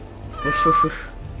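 A cat meows once in the fantasy role-playing game Dragon Age: Awakening, a short, clear, close mew over a quiet background.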